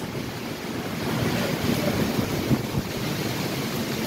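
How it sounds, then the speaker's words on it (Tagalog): Strong typhoon wind in Taiwan roars and buffets the microphone in rushing gusts, with a broad surf-like noise swelling and easing throughout. "Grabe ang lakas ng hangin."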